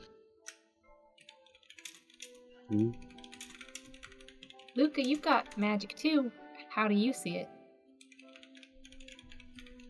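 Clicks of typing on a computer keyboard, light and close, running in quick clusters beneath people talking.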